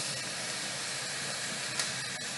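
Steady broadband sizzle and hiss from tomatoes frying in a hot pan for chutney, continuous and close, with a brief louder crackle near the end.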